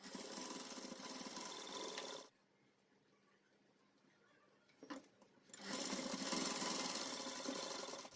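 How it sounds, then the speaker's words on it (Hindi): Sewing machine stitching fabric while making a child's Pathani suit, a rapid mechanical whirr that runs, stops for a few seconds of near quiet with a light click, then starts again at full speed. "5 इंच के फासले पे इस तरह से स्टिच करते हुए यहाँ पे सिलाई लगाएंगे।"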